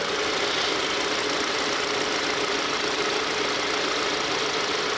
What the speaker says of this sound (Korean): 엔진 사운드도 한번 들어볼게요.